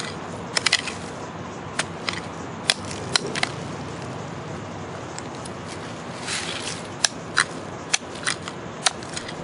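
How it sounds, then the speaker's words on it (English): A Benchmade 375 Adamas knife digs into the ground for a small fire pit, giving scattered sharp scraping and stabbing clicks at an irregular pace over a quiet outdoor hiss. "we're going to dig a small fire pit."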